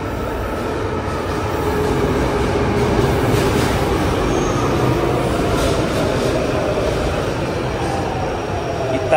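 A crowded metro train pulls into a station in Fortaleza, Brazil, a loud continuous rumble of rolling carriages with faint wheel squeal, steady and close, with no talk over it.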